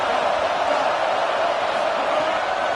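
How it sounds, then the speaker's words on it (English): A stadium crowd roars in the College Football 27 video game, a dense, steady, loud wall of massed voices that holds without a break. "Listen to this crowd just shaking the girders of this place trying to help their defense."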